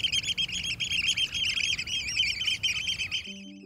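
Oystercatchers giving loud, shrill piping calls in a noisy head-down breeding display, a dense run of repeated sharp notes that carries on steadily for several seconds, then cuts off near the end.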